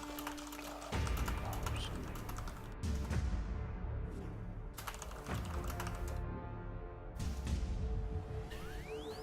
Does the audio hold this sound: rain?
no